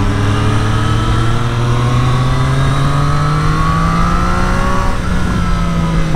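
Triumph Street Triple 765 RS motorcycle on its stock exhaust, a 2023 three-cylinder, revving loud and close with a steadily rising engine pitch, a brief dip near the end, continuous throughout with no talking.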